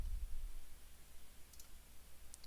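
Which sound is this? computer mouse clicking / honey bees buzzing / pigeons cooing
computer mouse clicking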